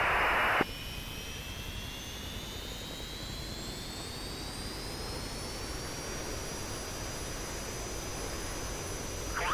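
A jet aircraft taxiing in the flight simulator game DCS gives a steady, even engine roar with a high whine that slowly rises in pitch, heard alone.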